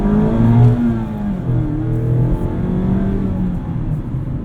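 2019 Mazda MX-5 Miata RF Grand Touring engine revving hard from inside the cabin, rising and falling engine pitch with a strong low growl, loud and close, no talk.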